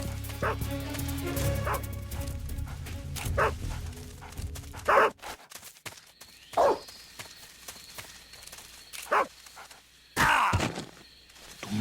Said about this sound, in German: Du mieser Köter, komm her.